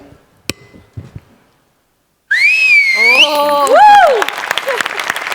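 A studio audience at a Marathi comedy show bursts into loud, sustained applause, with a long sliding two-tone whistle rising over the clapping before the applause continues.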